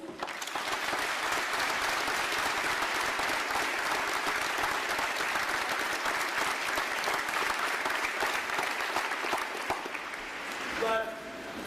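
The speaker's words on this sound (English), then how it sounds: "Ladies and gentlemen, a round of applause for our awardees." An audience at a Navy training ceremony at Recruit Training Command gives the awardees steady, even applause. The clapping is full and continuous for the whole stretch and tapers only slightly at the end.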